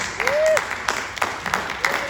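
An audience at a conference event gives a short round of clapping, with scattered individual claps that sound moderately close, while a voice speaks over them.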